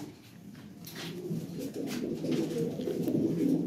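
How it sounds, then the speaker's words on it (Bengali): Toy Lahore pigeons gathered for sale coo softly and repeatedly over a low background murmur, moderately near. "আরও কবুতর আসতেছে, আজকেও আসবে 10 পেয়ারের মতো।"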